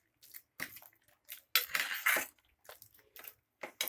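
A spoon scrapes and clinks against a pressure cooker pot while cooked dal lentils are stirred, giving several separate bursts of metallic scraping and knocking with short quiet gaps between them.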